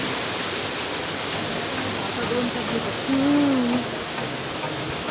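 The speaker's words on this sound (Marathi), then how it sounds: "आणि अरे इथे धबधबा आहे" A small monsoon waterfall at Kamshet makes a steady, even rush of falling water that fills the whole clip, with a faint voice briefly over it.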